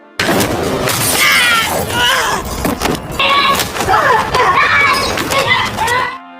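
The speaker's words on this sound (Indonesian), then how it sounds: "membuat agen Red terlempar dan lehernya terkena serpihan kaca jendela." Window glass shatters during a film fight scene, a loud crash of breaking panes with scattering shards, mixed with dense action effects and impacts throughout.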